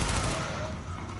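Sustained rapid gunfire from a firefight in the video game The Division, a dense, continuous barrage of automatic shots filling the whole moment at steady loudness with no clear gaps.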